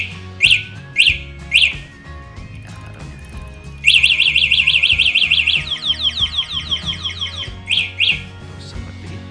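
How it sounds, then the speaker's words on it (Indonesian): Alarm on a Viar Akasha electric bicycle, a loud electronic chirping siren that sounds like a bird call: a few spaced chirps, then a fast run of rapid chirps that slows, then two more single chirps. "Dan untuk alarmnya juga kurang lebih suaranya mirip seperti ini."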